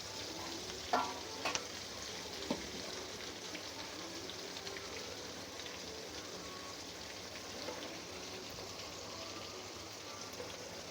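Pieces of fish frying in a pan for a fish biryani, a steady close sizzle and crackle running throughout with a few sharper pops near the start, no voices.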